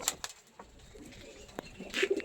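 Big old-generation Kalshira pigeons coo softly up close, with a few sharp clicks and a brighter burst of sound near the end over a quiet background.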